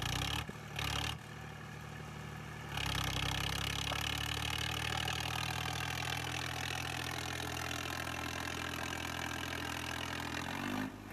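A farm tractor used for hauling sand idles in a steady low mechanical rumble; after a few brief bursts, it settles into a constant drone from close by, with no talking.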